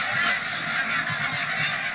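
A dense chorus of many wintering geese honking at once on an RSPB nature reserve, a continuous clamor of overlapping calls from a large flock.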